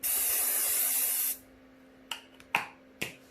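A spray can hisses steadily over a chalk drawing for about a second and a half, then stops, followed by three or four short clicks and taps nearby.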